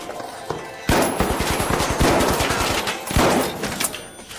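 A Model 1887 lever-action shotgun fires in a video game, loud booming shots in a fast volley with mechanical clacks and echoing tails, overlapping other gunfire.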